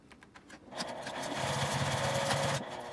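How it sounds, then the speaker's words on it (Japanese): A sewing machine stitching the strap of a handmade baby backpack, a short run of quick ticks building into a steady high mechanical whir that holds for about two seconds, then stops. "ここをミシンで縫います。"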